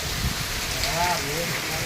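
Heavy rain falls as a steady, close hiss over a brief stretch, with a voice murmuring faintly underneath.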